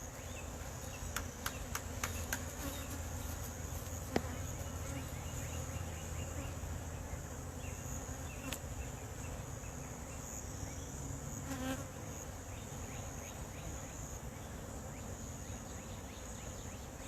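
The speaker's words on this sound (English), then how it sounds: "They've got tons of bees." A steady swarm of honey bees buzzes continuously, a dense droning hum with occasional individual bees zipping close by.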